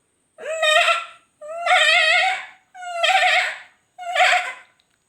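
A child imitates a goat's bleat, giving four loud, wavering, nasal 'baa' calls of about a second each, separated by short pauses.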